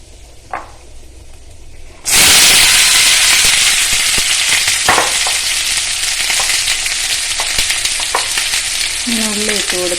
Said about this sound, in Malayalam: ഇനി ഇതിലേക്ക് നമുക്ക് ഉള്ളി ഇട്ട് കൊടുക്കാം.